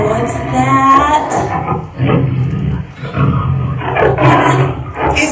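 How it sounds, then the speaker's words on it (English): A tiger roar plays loud and close at a nursery school performance, three or four rough, drawn-out roaring bursts separated by short gaps. "It's a tiger!"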